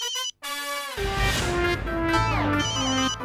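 A mobile phone rings with a bright melodic ringtone, a short pause near the start and then a fuller tune with layered tones that plays continuously and loudly to the end.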